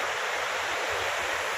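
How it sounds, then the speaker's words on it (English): Waterfall inside the World Trade Center grounds, a steady broadband rush of falling water, close and unbroken, with no other sounds. "beautiful waterfalls."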